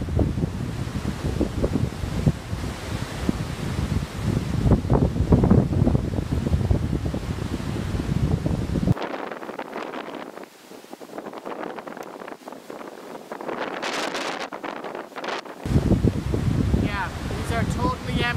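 Strong wind gusting across an apiary during a hive inspection in a windstorm, a loud rushing roar buffeting the microphone, with a quieter hiss in the middle before the gusts return.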